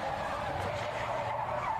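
Race car tires skid and squeal under braking failure in a film racing scene, a steady loud screech with engine roar lasting about two seconds, no voices.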